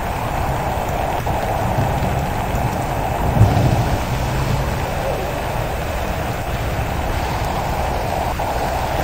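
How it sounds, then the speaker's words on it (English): Acid rain storm with thunder in the Roblox game Natural Disaster Survival: steady loud rainfall hissing throughout, with a brief low thunder rumble swelling near the middle. "Oh darn, acid rain."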